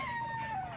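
A single chicken on a farm with ducks and turkeys gives one drawn-out, sliding call, close and fairly clear over a quiet background.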